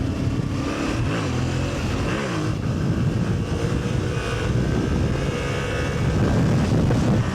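A 2025 Yamaha Tenere 700 motorcycle rides on tarmac in Morocco, its engine droning and rising in revs, loud and steady, with wind rush throughout.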